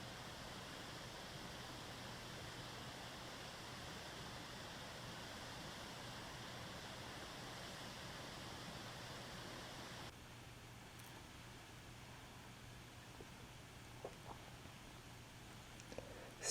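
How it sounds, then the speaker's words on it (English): A waterfall flows in a steady, soft rush of water with no voices. The sound stays faint and constant throughout and grows slightly quieter about two-thirds of the way through. "basking in the gentle flow of the waterfall, absorbing its nourishing essence"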